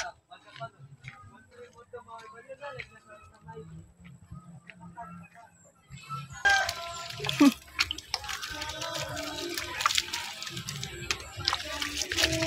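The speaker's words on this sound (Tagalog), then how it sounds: "Mag-ano ng bigay water sa mga halaman ko guys" Water pours onto garden plants in a home yard in the afternoon, a steady broadband spray starting partway through and continuing loudly, with a person talking over it and birds chirping faintly before it begins.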